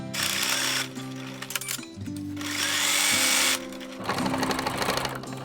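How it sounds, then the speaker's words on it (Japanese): A sewing machine stitches a waistband in several close, loud runs of rapid needle chatter with a steady motor hum, separated by brief pauses as the fabric is adjusted. "ウエストベルトをゴム通し口を開けて縫おう。"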